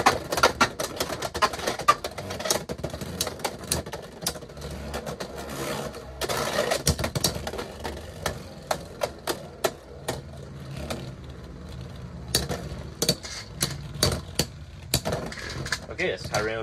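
Beyblade X spinning tops clashing in a stadium, with rapid rattling whirs and repeated sharp clicks and impacts in quick bursts, a speaking voice occasionally over the action.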